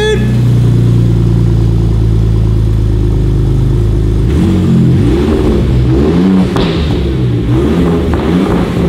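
Gen2 Ford Raptor with an AWE 1FG exhaust revs hard close by, a loud deep roar that holds steady and then drops into an uneven, burbling idle with pops.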